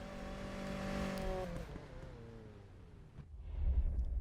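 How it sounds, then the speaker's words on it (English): Supercharged car engine in the Need For Speed video game revving with a rising whine that falls away, then deep rumble returns; moderately loud, with no speech. "I'm not a fan of that supercharger sound."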